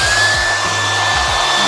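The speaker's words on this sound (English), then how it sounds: "I think I'm gonna sit on the hooded dryer for half an hour or so" A hooded hair dryer drones steadily with a constant airy rush and a faint high whine, running continuously and close by.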